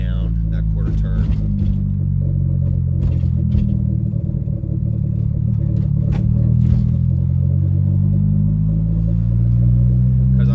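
A boosted Honda EG Civic engine idles with a steady, loud low rumble and slight fluctuation, close to the microphone, with no talking over it.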